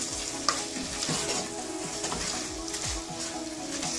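Potatoes stirred into a frying spinach and black chickpea curry, a steady close sizzle with repeated scraping strokes of a spoon through the pan and one sharp clink near the start; no talking.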